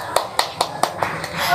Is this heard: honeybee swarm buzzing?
no